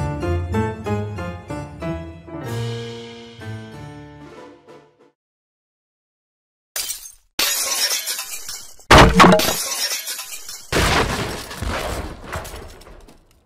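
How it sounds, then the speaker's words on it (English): Glass shattering in a Minecraft game: after a quiet musical intro and a pause, several loud, sharp crashes of breaking glass come in bursts, close and harsh, with no talk over them. "It sounds like glass breaking again."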